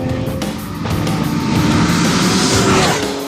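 A Porsche Carrera S with a 3.8-liter engine and sport exhaust, valves open, roars loud and close as it accelerates, the pitch climbing steadily with no voices over it.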